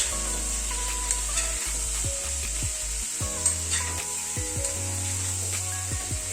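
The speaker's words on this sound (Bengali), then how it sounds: "এবার পেঁয়াজ ক্যাপসিকাম দিয়ে আবার একটু ফ্রাই করে নেব।" Onion and capsicum frying in a pan give a steady, close hiss of sizzling, with occasional stirring scrapes and a low hum running underneath.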